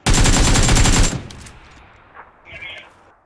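Rapid bursts of automatic gunfire in PUBG PC Lite ring out loud and close for about a second, then fade into quieter in-game ambience with a couple of faint later clicks.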